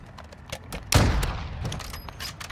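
A single loud, sharp sniper rifle shot rings out in the Call of Duty DMZ video game, its boom decaying over about a second amid quieter game ambience.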